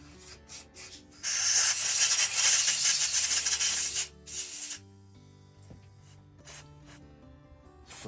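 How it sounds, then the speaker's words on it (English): A steady hissing aerosol spray into the cylinder of a 5 hp Tecumseh engine lasts about three seconds, loud and close, followed by short bursts and clicks of handling. "I'm going to spray that out."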